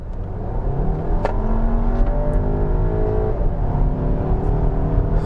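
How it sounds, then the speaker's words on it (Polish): Skoda Superb Combi engine switched from eco to sport mode, a steady loud engine drone with rising harmonic tones as it revs, continuous throughout with no talking. "Teraz pokażę Wam, co się dzieje, kiedy przełączę ten samochód z trybu eko na tryb sportowy."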